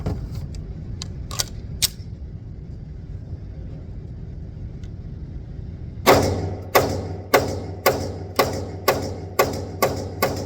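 Shots from an RXM pistol fitted with a Radian Ramjet afterburner: a few scattered clicks early, then after a quiet stretch a rapid string of about eight sharp, evenly spaced reports, loud and close.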